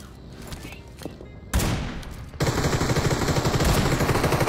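Rapid bursts of gunfire from a video game, a volley followed by sustained automatic shooting, loud and close.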